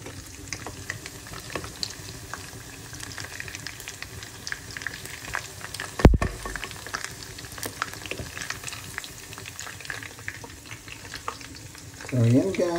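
Chicken wings fry steadily in a pan with a continuous close sizzle and crackle, one sharp clatter midway and a brief clink near the end.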